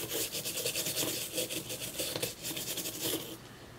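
A rubber eraser scrubbing a Game Boy Advance circuit board clean, a steady run of rapid back-and-forth rubbing strokes, close and fairly loud, stopping near the end, with no talk.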